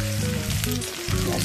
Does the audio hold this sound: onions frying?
yes